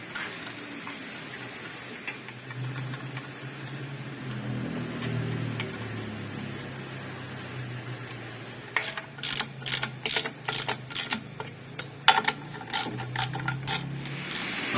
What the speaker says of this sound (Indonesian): untuk bagian clutch covernya sudah kita kencangkan ya di sini